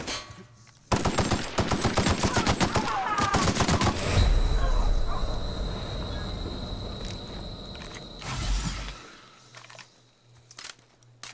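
Loud gunfire from The Outer Worlds, a rapid burst of automatic shots followed by a dense, sustained barrage with heavy low rumble that fades to quiet near the end.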